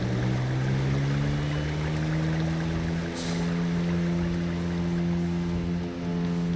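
A steady, buzzy video game car engine drone holds a constant low pitch, rough and lawnmower-like, running continuously without speech.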